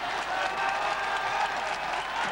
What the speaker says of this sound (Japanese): ファンも大歓声であります